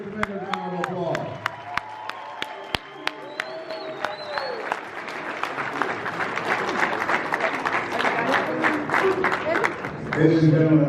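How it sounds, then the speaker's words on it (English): Applause builds from scattered claps into sustained clapping as a seminar audience welcomes a speaker, with voices calling out over it and an announcer's voice at the start and end. "Give him a tremendous round of applause."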